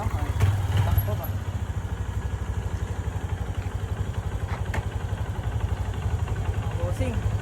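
A new Honda CRF 150L motorcycle runs with a steady close-up engine putter throughout, a brief louder rev near the start, and voices talking faintly over it.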